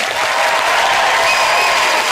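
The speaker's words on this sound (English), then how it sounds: "So I'd like you to give a big round of applause from Sir Rock, South Wales." A studio audience claps loudly and steadily throughout, a dense, close wash of applause with no talking over it.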